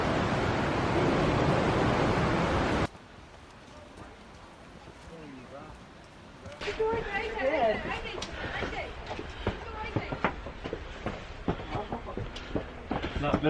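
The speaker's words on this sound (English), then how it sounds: "This is some of the fastest moving, roughest water though that we've seen anywhere we've been." Fast, rough river water at Athabasca Falls: a loud, steady broadband roar for the first few seconds cuts off, then quieter rushing water returns with people talking over it.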